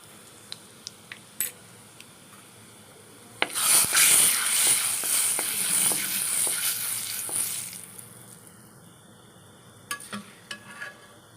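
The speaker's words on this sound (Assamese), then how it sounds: "এতিয়া মই তেলতে অলপ হালধি দি দিছোঁ।" Turmeric is added to hot oil already tempered with panch phoron for dal, setting off a loud, bright sizzle that lasts a few seconds between scattered clinks of a utensil.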